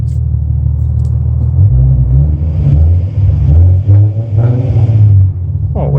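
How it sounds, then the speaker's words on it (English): A 300 horsepower V6 engine rumbles loud and close with a deep, steady idle and brief shifts in pitch like light revving, with a voice barely audible beneath it. "That's the 300 horsepower V6 motor."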